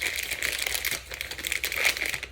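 A plastic piping bag is folded over by hand while preparing stuffed manicotti, giving close, crisp crinkling and crackling in short bursts over about two seconds, with no speech.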